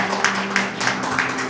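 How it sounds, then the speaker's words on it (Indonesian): A church congregation claps together in a short burst of applause, several sharp rhythmic claps about a third of a second apart over a steady low hum. "Kasih tepuk tangan dulu buat Tuhan Yesus"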